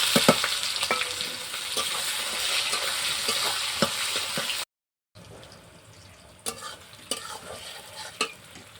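Whole garam masala with black cardamom and mace sizzling in hot oil, a steady close frying hiss with scattered sharp pops and a brief silent gap midway, no voices.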